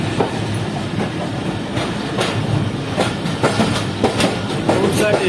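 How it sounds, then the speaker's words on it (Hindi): Jaffer Express passenger train running on rails between Peshawar and Lahore, heard from inside as a loud, steady rumble with rhythmic clickety-clack of wheels over rail joints. "तो ट्रेन यहाँ से थ्रू पास कर रही है।"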